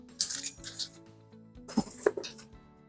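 A bunch of keys jingles in two short bursts of bright metallic clinks, close and fairly loud, with a quiet pause between them.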